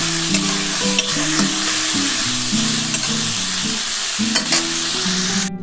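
Chopped vegetables fry in a pan for oil-free veg fried rice, a continuous loud hiss and sizzle with stirring throughout, over a steady low tonal backing that sounds like music.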